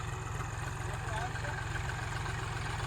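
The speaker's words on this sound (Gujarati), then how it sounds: "અત્યારે અહીંયા હાલે છે ટ્રેક્ટર" A tractor engine runs steadily on a farm, a low, even, throbbing idle that stays fairly faint and continuous throughout.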